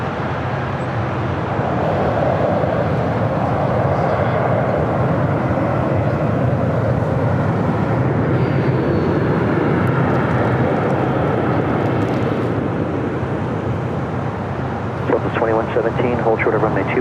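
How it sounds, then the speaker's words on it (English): A United Boeing Dreamliner airliner taxis at LAX, swinging through a left-hand turn toward a hangar, its engines a steady broad roar that holds loud throughout, with talk over it and a brief rattling burst near the end. "This is the United Dreamliner making that left-hand turn, heading to the hangar"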